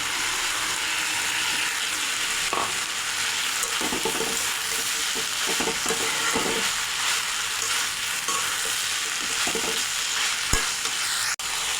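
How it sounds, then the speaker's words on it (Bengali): Fried potatoes being stirred into a pan of fish-head and banana-blossom curry, with a steady frying sizzle and repeated scraping, clattering stirs throughout and a sharp knock near the end. "এখন ভেজে রাখা আলু দিয়ে দেবো।"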